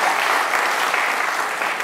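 Audience applause at a New Year's reception in Kampen, a steady, dense clapping from a crowd that holds at even loudness throughout, with no voices over it.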